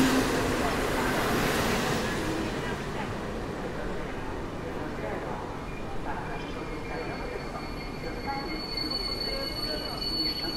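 An Intercity Warta passenger train from Budapest rumbles steadily past at close range through Warszawa Zachodnia station, wheels squealing and clattering on the rails, with a voice speaking over the noise.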